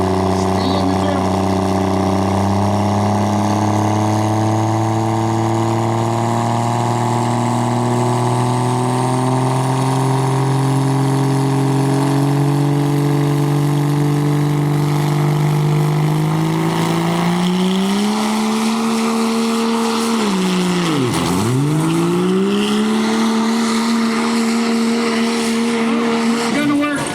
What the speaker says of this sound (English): Super modified, unlimited diesel.